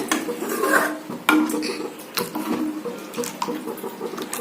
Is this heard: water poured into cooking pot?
yes